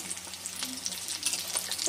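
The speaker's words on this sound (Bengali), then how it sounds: "একটু লাল লাল করে ভাজতে হবে কাটলেট কটা।" Cauliflower cutlets fry in a pan of oil with a steady, close, hissing sizzle that swells slightly louder toward the end, no voices over it.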